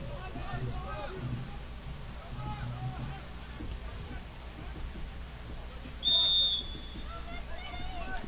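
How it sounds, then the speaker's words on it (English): A referee's whistle at a Med City FC versus Union Dubuque soccer match blows one short, sharp blast, standing out briefly over steady crowd and field noise, with commentary voices running underneath. "And a whistle there on Nicholas Idapalos for the push"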